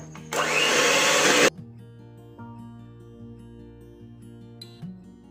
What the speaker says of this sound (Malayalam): ഇനി ഇതൊന്ന് ജസ്റ്റ് ബീറ്റ് ചെയ്തെടുക്കാം